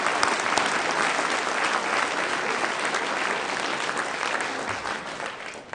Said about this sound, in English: Let's all clap for Jimmy.